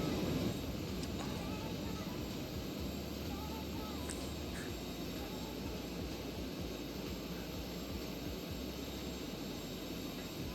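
Citation C680 business jet thrust reversers in a flight simulator, a steady loud broadband roar of jet engine noise holding evenly throughout with no breaks.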